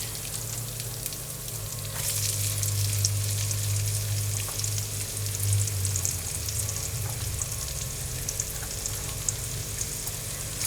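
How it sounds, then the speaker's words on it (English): Celery, onion, carrot and garlic fry in leftover oil in a pan for braised beef shanks, a steady close sizzle that swells as the vegetables go in, with some stirring and no talking. "with that leftover oil, I'm going to add my aromatics"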